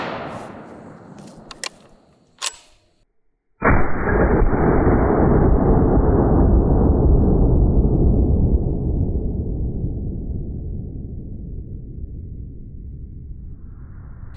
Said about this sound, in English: it's pretty obvious there's a big muzzle blast coming out of this thing